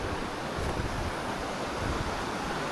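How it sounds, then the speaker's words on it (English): A river flowing outdoors in Ballaglass Glen on the Isle of Man makes a constant, full rushing wash, loud and unbroken, with no one talking over it. "Now that's another river coming from another direction, and they meet further down by the houses."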